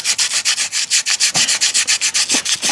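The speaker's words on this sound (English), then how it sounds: "I've got 400 grit here, so we're only just cleaning rust off it" Rust being sanded off the shaft of a Yamaha F150 outboard with 400-grit sandpaper, close up: steady rapid back-and-forth rubbing strokes in an even rhythm, with no one talking.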